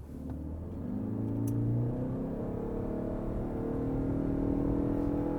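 A 2024 Ford Escape plug-in hybrid pulls away at full power with no launch control, its engine drone rising steadily in pitch under continuous road rumble, close and fairly loud throughout.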